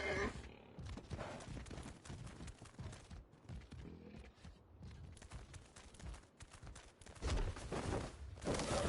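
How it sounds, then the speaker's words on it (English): A horse in the video game ARK: Lost Colony whinnies and moves about amid busy, dense game sounds, with louder bursts near the end. "The black horse."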